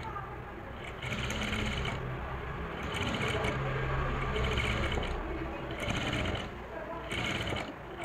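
A sewing machine stitches the neck of a lehenga blouse, its rapid mechanical whirr running in bursts close up, with someone talking over it at times.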